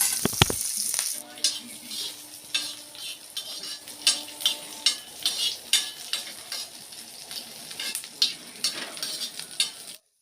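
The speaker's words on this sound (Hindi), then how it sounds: "तो ये हरी मिर्च और लहसुन मैंने अच्छे से तल लिया है।" Chopped green chilli and garlic fry in oil on a tawa, a bright crackling sizzle broken by rhythmic scrapes and clinks of a spatula stirring against the pan, roughly once a second, close and clear with no speech.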